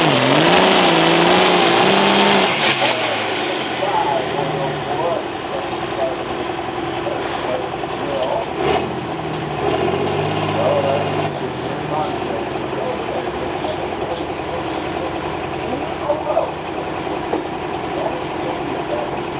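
At a Rockwell, Iowa tractor pull, a Limited Pro pulling tractor spools up with a loud roaring, whining engine that rises and then holds as a sustained drone, with announcers talking over it throughout.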